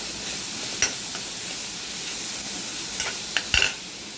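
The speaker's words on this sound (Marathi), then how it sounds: "हा मसाला ना चांगला रोस्ट होऊन द्यायचा।" Ground chili and garlic masala fries in a hot pan with a steady sizzle, and a few sharp scrapes and clinks come as it is stirred.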